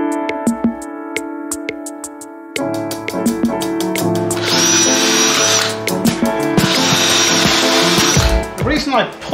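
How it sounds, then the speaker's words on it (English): A power drill bores into hard material while parts of a homemade wood lathe are mounted to its frame. A steady motor whine runs throughout, with two louder, harsher bursts of drilling near the middle and end. "I take the drill so far in,"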